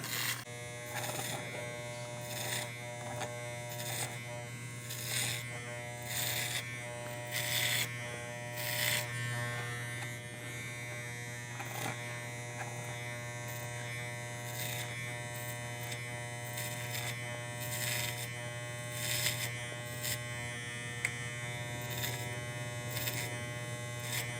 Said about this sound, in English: So this is the clipper over comb